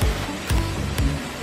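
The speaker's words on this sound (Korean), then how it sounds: "가평 용추계곡에 있는 용추폭포입니다." Yongchu Waterfall in Gapyeong's Yongchu Valley, Korea, roars as a continuous loud rush of falling water, broad and steady with slight surges.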